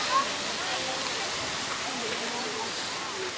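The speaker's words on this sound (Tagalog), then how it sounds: "I can hear the tide already." Rising sea tide washing onto a littered shore during a coastal cleanup, heard as a steady broadband rush of surf, close and continuous, with no distinct breaks between waves.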